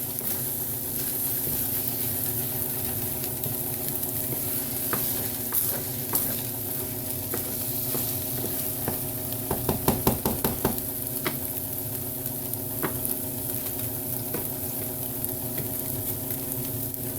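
Scrambled eggs stirred in a hot pan, with a steady soft sizzle and a brief run of quick scraping taps from a utensil against the pan, no voices.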